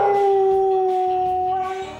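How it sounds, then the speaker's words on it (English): A dog left alone at home lets out a sustained, loud tonal howl close by, holding steady before tapering off at the end, with no voices. "When left alone, Lucy can't cope, so she howls the house down"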